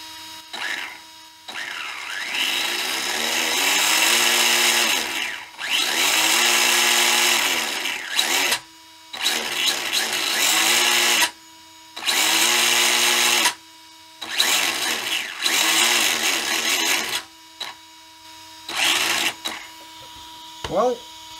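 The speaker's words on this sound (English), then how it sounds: "They've definitely got one hell of a fan on these speed controllers." A Tamiya Frog RC buggy converted to a brushless 4370KV motor with a 60 amp speed controller and its cooling fan spins up in repeated whirring bursts of several seconds each, separated by brief pauses, close and steady.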